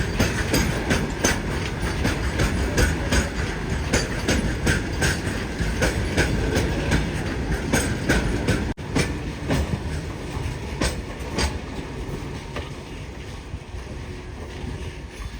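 A train rolls steadily over railway track near a switch, giving a loud continuous rumble with regular clickety-clack beats from wheels crossing rail joints, close by throughout.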